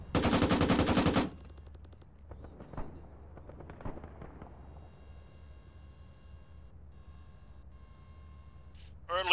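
Ammunition cooks off in ARMA 3, opening with a dense, loud burst of rapid crackling pops, followed by scattered distant single bangs and faint pops over quiet background, with another sharp crack at the end.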